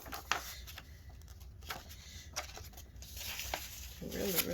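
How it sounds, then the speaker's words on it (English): Cut material being peeled off a Silhouette Cameo cutting mat, giving soft tearing and crinkling rips in short bursts that grow rougher and louder toward the end, with faint background noise. "I'm gonna peel this up, because when you peel it up, then you can really"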